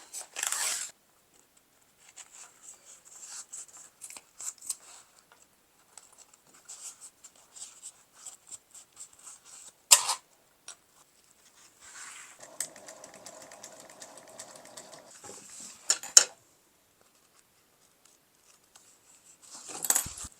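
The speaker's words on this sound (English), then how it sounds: "Because mine is so thick, I'm going to actually trim that down." Scissors trimming down a thick, bulky fabric seam allowance while sewing a sling: quiet, close snips and clicks that come in scattered bursts with short silent gaps between them.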